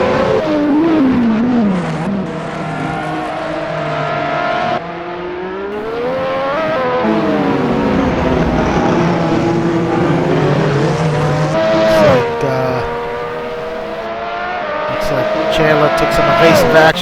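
Lotus 98T race cars in a racing video game roar past slower lapped traffic at Imola, engine notes rising and falling continuously and loudly, with commentators talking over the sound throughout.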